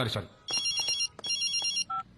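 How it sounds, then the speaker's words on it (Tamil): A mobile phone rings in an exam hall, giving two bursts of bright electronic ringtone and a short final chirp, moderately close, with a voice heard at the start. "சார் உங்க போன் தான் சார்"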